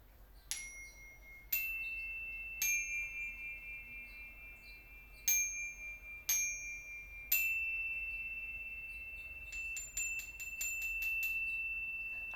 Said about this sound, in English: Listen to my chimes.